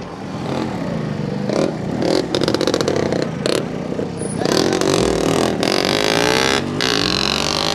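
A Yamaha RX135 motorcycle engine runs loud and close, its two-stroke note revving and rising in pitch with some clattering and scraping mixed in throughout.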